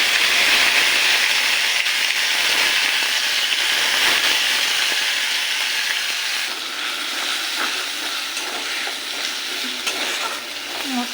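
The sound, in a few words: spice paste with tomato and green chili sizzling in oil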